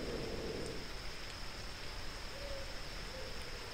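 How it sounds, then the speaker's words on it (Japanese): Steady rain falling in the game Dragon Quest Builders, a soft even hiss of drops with a faint high tone running through it and a few small chirpy blips, quiet throughout. "雨が降ってる。"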